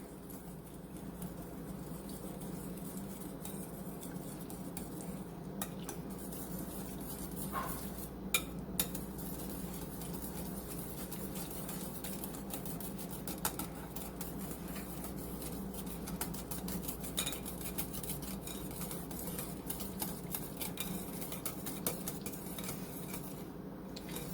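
Pumpkin bread ingredients are stirred together in a bowl, giving faint, irregular scraping and soft clinks of utensil against bowl over a quiet background hum, with no voices.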